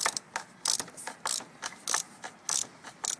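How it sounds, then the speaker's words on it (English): Ratcheting wrench working the flats of a car's oil filter, a crisp pawl clicking in quick repeated bursts with short pauses between strokes, close and fairly loud with no voices. "Just unscrew the filter."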